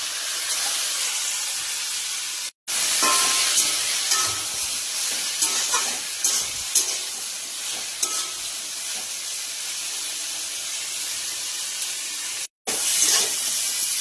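Seeded flat beans sizzle loudly in a hot frying pan with reddened oil, a bright continuous hiss and steam with stirring scrapes, broken by two brief silent cuts.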